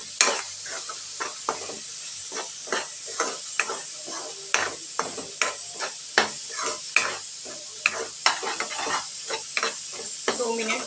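Masala with garam masala and cumin powder is roasted in a pan for paneer sabji, the spatula scraping and stirring in a quick, regular rhythm over a steady close sizzle.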